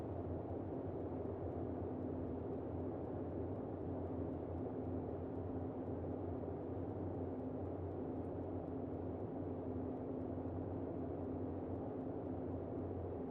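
A Boeing 247D taxiing in Microsoft Flight Simulator 2020 gives a steady, low engine drone with a broad rumble that holds evenly and fairly quietly throughout, with no talking.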